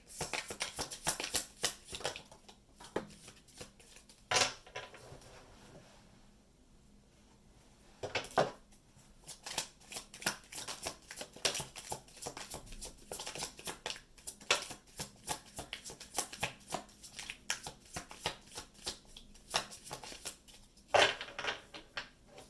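A deck of tarot cards is shuffled by hand up close in quiet surroundings, with crisp papery riffles and slaps arriving in uneven clusters and a short lull partway through.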